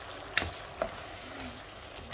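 Vegetables fry in a pot as the start of a soup, a quiet, steady sizzle broken by a few sharp clicks, like a spoon knocking against the pot.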